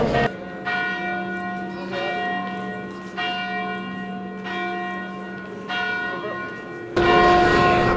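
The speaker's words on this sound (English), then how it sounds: "the bells are somehow still ringing, believe it or not" Church bells in Bled, Slovenia ring out in slow, evenly spaced strikes, each ringing tone decaying before the next, heard fairly close, with a burst of broadband noise near the end.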